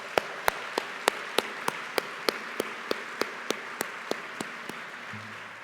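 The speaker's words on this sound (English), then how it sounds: "Let's have another round of applause for these young people." Steady, evenly spaced claps, about sixteen in a row, ring out at a regular pace in a quiet hall at an award dinner, then stop.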